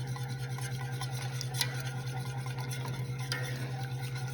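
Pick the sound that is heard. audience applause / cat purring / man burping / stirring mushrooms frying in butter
stirring mushrooms frying in butter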